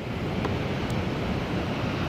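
Sea waves wash steadily below the granite cliffs at Land's End, Cornwall, a continuous soft rushing surf mixed with wind noise and no speech.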